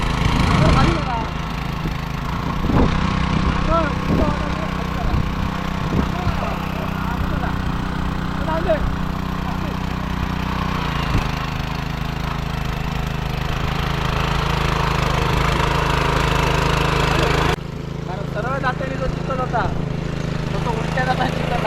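A steady tractor engine drones throughout at close range in a Konkan paddy field during rice planting, with a low rumbling idle and faint voices talking over it.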